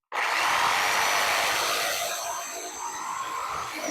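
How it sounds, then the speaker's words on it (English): A jigsaw cuts a V notch out of a wooden strawberry planter, a loud continuous buzzing rasp close by that runs for several seconds and eases slightly toward the end. "I'm just going to take my jigsaw, cut that out."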